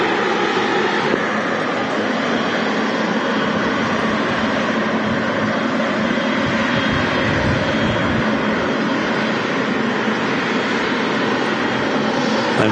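A white Qatar Boeing 777F freighter with GE90 engines, a loud sustained jet roar with broad rumbling thrust filling the air steadily throughout, no voices.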